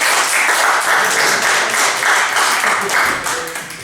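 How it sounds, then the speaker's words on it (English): Audience applause for a performer named Stefan at a live comedy gig, a dense, steady wash of clapping lasting several seconds before tapering off slightly at the end, with no talking over it. "Round of applause for Stefan."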